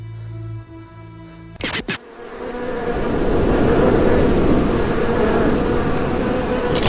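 After a low tonal hum and a few sharp knocks, a dense buzzing of wasps swells up and holds loud and steady, like a swarm close by.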